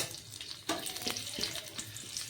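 Two bay leaves frying in hot ghee in a pan, a close steady sizzle with soft crackles and occasional stirring scrapes.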